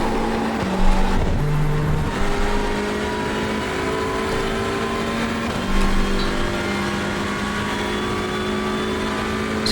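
The engine of a Hyundai Elantra race car at Watkins Glen in iRacing drones continuously, with a steady tonal whine, gear changes and shifts in pitch, and other cars humming nearby.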